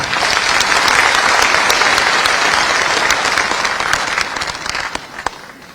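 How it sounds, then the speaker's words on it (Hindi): Loud applause from a large crowd at a Devnarayan Jayanti celebration in India, dense and sustained, gradually thinning out toward the end with a few last claps. "जोरदार तालियां बजानी चाहिए"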